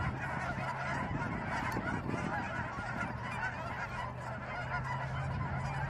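A dense flock of geese honks continuously on a partly frozen pond at Roger's Grove in Longmont, Colorado, many overlapping calls forming a loud, steady clamor.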